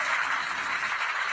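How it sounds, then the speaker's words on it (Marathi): An audience claps together in a dense, steady burst of applause that stays loud and even throughout. "एकदा जोरदार टाळ्या वाजवा"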